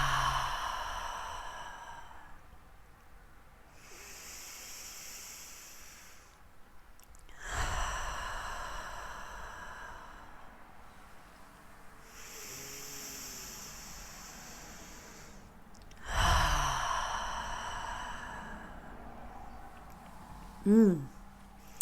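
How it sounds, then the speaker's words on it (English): Three big, slow, deep breaths for a meditation, each a long hissing inhale and exhale spaced several seconds apart, close to the microphone, with a quiet pause between them. "why don't we start with just taking 3 big deep breaths"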